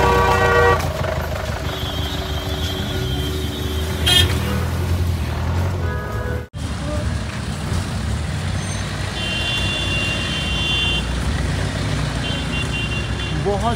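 Heavy traffic on a busy road in Solang Valley during a snowy tourist day, with repeated car horns honking at varied pitches over a steady rumble of engines; a person speaks briefly.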